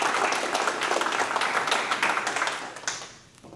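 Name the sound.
audience applause welcoming the speaker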